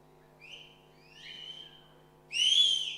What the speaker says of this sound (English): Okay, how many of you know to whistle over here?